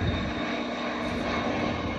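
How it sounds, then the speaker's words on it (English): A UPS cargo plane flies in near a junkyard by the airport, its engine giving a continuous, fairly loud roar with no talk. "The UPS is flying in."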